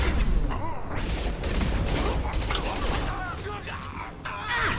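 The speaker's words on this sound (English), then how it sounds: "Taking heavy fire!" Heavy gunfire in the Mass Effect game, rapid bursts of shots and impacts piling up in a dense, loud volley with mechanical clatter throughout.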